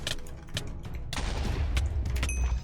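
Bomb explosions go off in the Minecraft Bed Wars game, a run of loud, crackling bursts that pile into a dense, continuous rumble over nearly three seconds.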